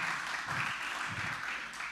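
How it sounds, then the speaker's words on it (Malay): Church congregation applause welcoming a speaker to the stage, a steady dense wash of clapping that holds at an even level throughout. "beri tepukan yang gemuruh untuk dia"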